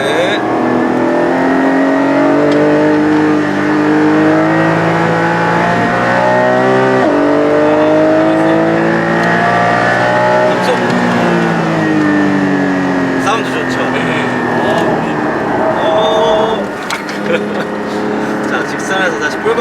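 A Porsche Cayenne Turbo GT or 718 Cayman GT4 goes to full throttle on a race circuit straight, the engine loud and close as it climbs through the revs with gear changes, while an instructor speaks over it.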